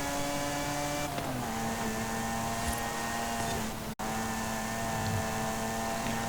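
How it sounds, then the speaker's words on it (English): Lotus race car engine in Forza Horizon 5, a sustained loud tonal whine that shifts pitch with a brief cut in the middle, then resumes steadily with no talking. "Yeah, this Lotus is pretty quick."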